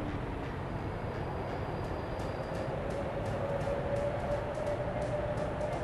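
Steady, loud rumble of a subway train running in the video game Workers & Resources, with a faint tonal whine rising partway through and no voices.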